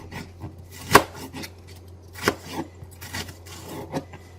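Knife cutting onion into thin slices, a few sharp chops standing out among quieter scraping and rubbing strokes on the board, close and fairly soft.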